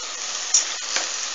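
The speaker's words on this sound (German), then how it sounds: "Und jetzt mache ich die Pinienkerne rein. Damit die auch schön rösten." Pine nuts roasting in oil in a pan for vegan Turkish stuffed peppers, a steady close hissing sizzle with a couple of brief stirring swells, no voices.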